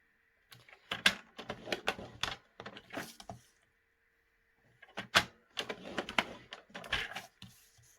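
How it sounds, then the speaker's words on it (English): Paper being scored on a scoring board for a craft box gives close, irregular clicks, taps and scrapes in two busy bursts separated by a short pause. "I'm going to score it at 1 inch all the way around"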